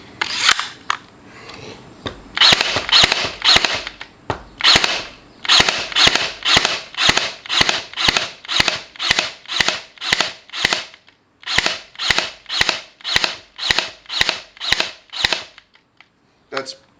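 A DeWalt DCN623 20V cordless pin nailer fires in fast succession, loud close snapping shots in a steady rapid rhythm of about two per second, with two short pauses between bursts.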